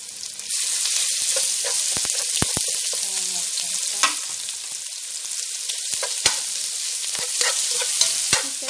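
Strips of lamb shoulder with five spices grill in a pan, producing a loud steady sizzle with scattered sharp scrapes and knocks from stirring, close up and without speech.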